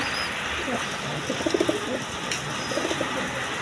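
Pigeons, racing birds of a fancy breed kept in pairs for sale, coo in soft repeated bursts close by over a steady background hum, with a voice talking in the scene.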